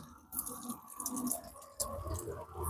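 Short bursts of water spraying from a bottle onto a car window, with hissy wet spurts and faint dripping, close by and fairly quiet.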